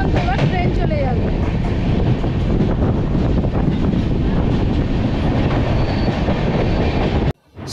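The Kanchan Kanya Express runs toward a tunnel on the line to Sikkim, a steady loud rumble and rattle of rail cars with wind buffeting the microphone, then a sudden drop near the end.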